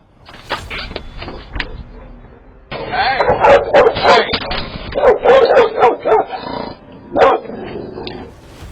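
Dog inside a home barking at a visitor, a few sharp barks, then a dense run of loud close barks, yips and growls, with a last bark near the end.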